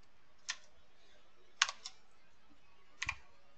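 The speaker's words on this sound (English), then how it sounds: "I'm typing in every single character" A few scattered keystrokes on a computer keyboard while entering a Roblox username, crisp clicks coming in small clusters with quiet gaps between them, close and alone.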